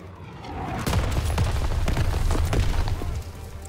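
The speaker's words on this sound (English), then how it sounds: "Oh boy! Explosions." Dense, rumbling bursts of explosions in the video game Call of Duty: WWII roll through steadily, loud and sustained with a heavy low-end boom throughout.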